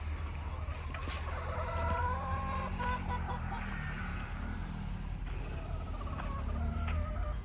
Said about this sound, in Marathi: कोंबड्या पण आहेत तिथे